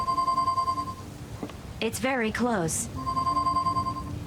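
A phone rings in the Leisure Suit Larry: Wet Dreams Dry Twice video game, a steady electronic trill heard before and after a short stretch of speech that interrupts it.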